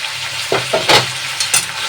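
Chopped tomato tipped into frying mutton and stirred through, producing a close sizzle with a few sharp scrapes and splashy bursts over a short stretch.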